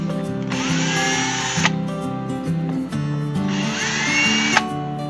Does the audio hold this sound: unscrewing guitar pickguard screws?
yes